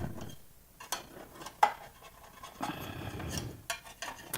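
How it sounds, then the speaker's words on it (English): An offset metal spatula scrapes around the inside edges of a baked pumpkin bread loaf pan in a kitchen, giving several close, soft scraping and rubbing strokes with brief pauses and a light clink. "I'm just going around the sides with this spatula."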